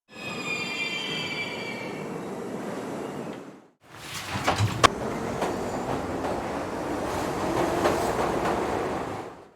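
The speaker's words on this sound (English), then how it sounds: "Subway." A subway train roars past with screeching wheels and rumbling cars, then after a brief cut another loud train passage continues.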